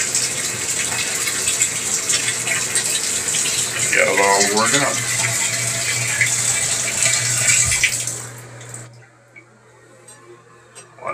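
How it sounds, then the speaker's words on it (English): Hot water runs steadily from a tub faucet into a drain that was just cleared with Drano Max Gel. The loud, constant gush goes on under brief talk and then cuts off, leaving quiet dripping. "Run some more hot water in here."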